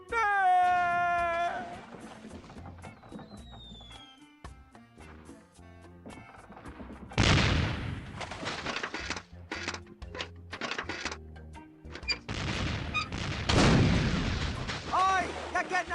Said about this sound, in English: it's one of those new self-loading cannons I've heard so much about.